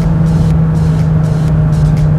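Car accelerating hard on a race circuit, a loud steady engine drone holding one pitch close to the microphone without pause.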